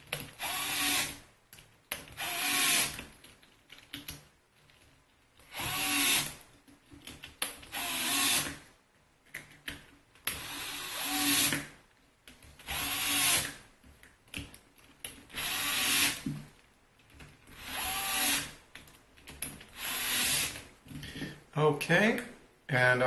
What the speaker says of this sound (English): Now I'm going to go ahead and use my nut driver and tighten up these